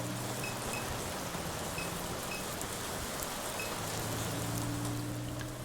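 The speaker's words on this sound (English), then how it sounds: "The downpour finds its way into the drainage canal, its water level slowly rising." Heavy downpour in the video game NORCO, a steady, unbroken wash of rain hiss that stays loud and close for the whole stretch, with no voices over it.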